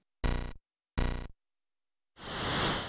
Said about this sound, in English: The real Commodore 64 version of Hardball doesn't sound like that.